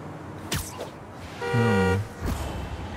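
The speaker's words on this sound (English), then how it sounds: "Who is honking at me?" A car horn honks in the Spider-Man 2 video game, one sustained blare of about half a second standing out over steady city traffic and game ambience, with no talking.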